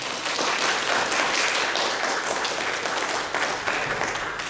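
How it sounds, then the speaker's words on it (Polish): An audience at a school nativity play showcase claps after a performance, a steady wash of applause that holds at an even level for several seconds with no talk over it. "Serdeczne brawa jeszcze raz."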